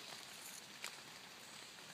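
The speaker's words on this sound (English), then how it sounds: "I'm out here in the rain." Rain falls steadily outdoors at a coal mine site, a soft, even hiss of drops on the ground with an occasional slightly louder patter, and no voices.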